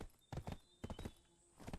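Horse hooves gallop in the video game Black Desert, coming as quick clusters of clopping beats in three bursts with short gaps between them.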